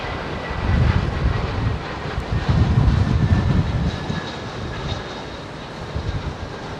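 A Finnair airliner passes overhead near London Heathrow, a broad, rumbling jet roar that swells and holds steady for several seconds with no voices over it.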